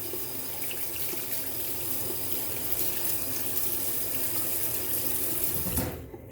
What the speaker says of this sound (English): I like to really rinse out my puck